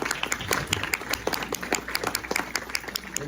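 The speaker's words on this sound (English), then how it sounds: "let's give these gentlemen a round of applause" Audience at a county economic forum applauds, a dense patter of many hands clapping steadily at moderate distance, with no talk over it.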